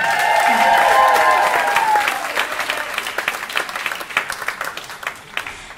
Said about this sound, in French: bravo, on peut l'applaudir, merci Stéphane.